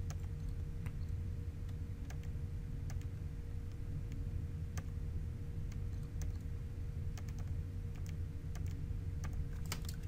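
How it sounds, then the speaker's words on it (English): Light clicking taps on a calculator keypad, a scattered series of soft, close presses over a steady low hum. "So if you type that in the calculator,"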